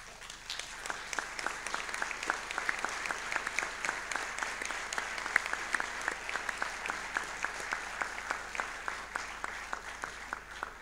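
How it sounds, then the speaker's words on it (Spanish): An audience at the opening ceremony of an academic conference applauds, a soft, fairly distant round of clapping with a steady rhythmic pulse running through it. "merecido aplauso"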